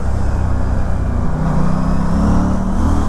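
An Aprilia Tuono 457 motorcycle engine pulls hard under acceleration in city riding, a loud, close, continuous growl with rising pitch and heavy wind rush.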